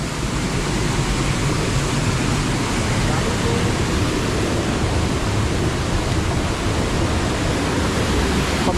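Strong, rushing water pours steadily, likely a stream or small waterfall outdoors, a dense full-band roar that stays constant and close throughout with no breaks.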